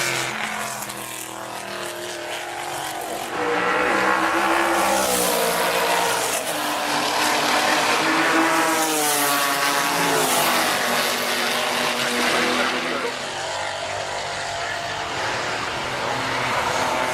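Historic race cars at the Goodwood Revival RAC TT Celebration race roar past one after another, engines rising and falling in pitch as they pass loudly and close, with tyre noise and no talk.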